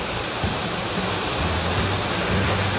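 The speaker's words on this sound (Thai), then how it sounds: "น้ำตกสปันนะครับผม ที่จังหวัดน่านนะครับ อุทยานแห่งชาติ คุณน่านนะครับผม" Sapan waterfall in Nan province, Thailand, roars as a steady, dense wash of rushing water that fills the whole short stretch, loud and close with no voices.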